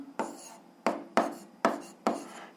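Pen strokes writing a physics formula, five quick scratchy strokes in an even rhythm, close and clear with no talking.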